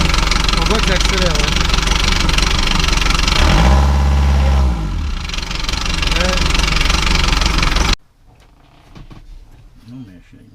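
Outboard boat engine under repair in a remote bay, revving up loudly during test runs with a deep rising and falling drone, then cutting out abruptly; voices talk over it.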